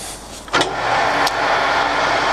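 A Colchester Student 1800 metal lathe motor whirs up after a couple of clicks, settling into a steady hum that continues close by.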